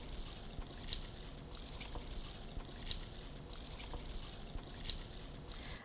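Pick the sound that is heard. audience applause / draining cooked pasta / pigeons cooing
draining cooked pasta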